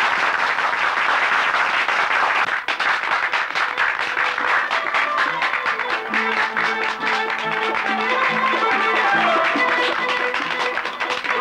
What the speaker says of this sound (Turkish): Bu alkışlar da necilik?